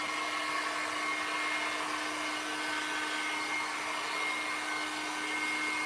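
A heat gun blows hot air over epoxy resin art in a steady, close, continuous whoosh with a faint electric whine, unbroken for the whole stretch with no talking.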